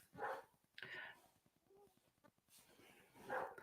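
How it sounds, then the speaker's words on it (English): Several dogs outdoors bark at passers-by in a few faint, distant bursts, heard behind low room noise. "my dogs are out there yelling at everybody that goes by."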